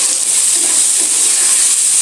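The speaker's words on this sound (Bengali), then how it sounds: "এবার টমেটোটা আমি ভালো করে একটু ভেজে নিচ্ছি।" Tomatoes fry in a home-kitchen pan where river fish dopiaza is being cooked, giving a steady, even sizzle and hiss with no talking.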